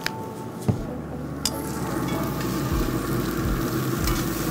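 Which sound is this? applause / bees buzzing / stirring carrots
stirring carrots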